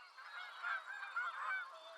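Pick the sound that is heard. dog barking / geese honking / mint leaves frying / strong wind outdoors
geese honking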